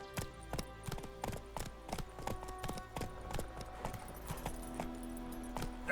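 Horse hooves clip-clop in a steady trotting rhythm on a road in The Witcher 3: Wild Hunt, close and continuous over a faint background music bed.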